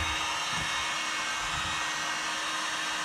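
A heat gun blows hot air with a constant, even breathy hiss and whir, heard up close for a few seconds while someone works on a Catalina 36 sailboat.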